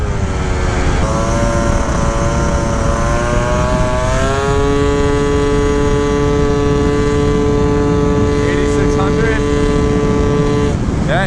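A Gilera Runner 172cc scooter engine revving hard to a high sustained whine, rising pitch then holding steady near and loud, with wind and road roar underneath and someone talking over it.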